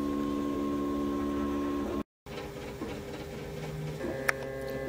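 A Prusa i3 3D printer lays down a raft, giving a steady low mechanical hum with faint stepper whine and occasional soft ticks, quiet and continuous apart from a brief gap.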